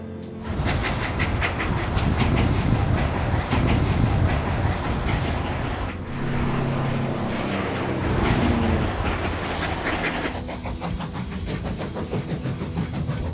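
A train rumbles past with rhythmic clattering over a steady engine drone, loud and close throughout, its tone shifting as it goes by.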